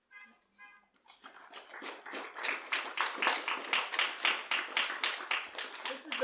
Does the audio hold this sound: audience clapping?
yes